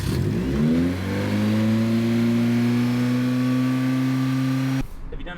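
Nissan N15 Pulsar engine at a race track revs up and hangs high with the clutch in, a loud sustained whine that climbs slightly in pitch, then cuts off abruptly.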